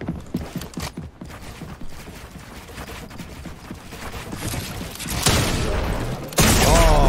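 Gunfire in a Fortnite 1v1 wager match: a run of sharp, loud shots cracks out early, followed by denser, heavier bursts of weapon noise toward the end.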